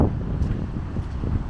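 Wind buffets the microphone on a stormy spring day beside high water with big waves, a low, rumbling roar that swells and eases steadily with no voices.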